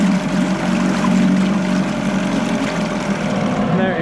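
A Johnson 4 hp Seahorse two-stroke outboard engine idles steadily with its cover on, a constant, fairly loud hum with a low buzzing drone throughout.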